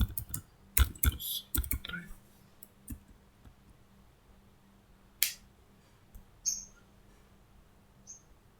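A computer keyboard clicks with a quick cluster of keystrokes for a Ctrl+F shortcut, followed by a few sparse, faint taps against a quiet room.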